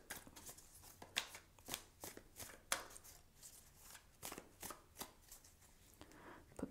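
Tarot cards are handled and shuffled close up in a quiet room, with a string of quick, crisp card riffles and slaps.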